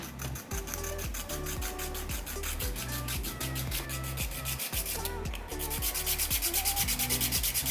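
Steady electric nail file buzz grinding off gel nail polish, constant and close, with faint rhythmic scraping pulses and no talking.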